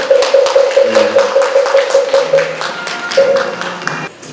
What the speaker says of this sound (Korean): 모두 박수 많이 해주십니다